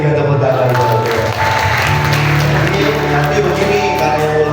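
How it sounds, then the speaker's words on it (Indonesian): A church congregation at a morning worship service claps together, a loud, sustained burst of applause from a large crowd with music or a held tone underneath and a brief dip partway through. "Kita berikan tepuk tangan buat Tuhan."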